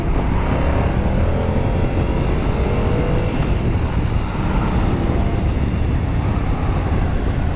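A Moto Guzzi V100 Mandello S motorcycle engine drones steadily under heavy, continuous wind rush throughout the ride, with no speech.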